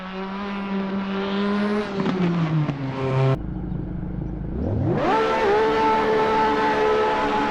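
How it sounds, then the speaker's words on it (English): An Alfa Romeo 4C GT3 four-cylinder race car in Assetto Corsa screams through the gears: a loud engine whine climbs, drops at a gear change, then rises sharply again in a harsh buzzing rev. "You just hear this screaming 4-cylinder."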